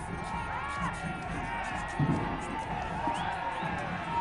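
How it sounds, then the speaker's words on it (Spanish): A crowd at a football match claps and cheers in a sustained, moderately distant wash of noise, with a commentator's voice running over it and a brief louder swell midway. "La gente que aplaude porque la peleó con todo."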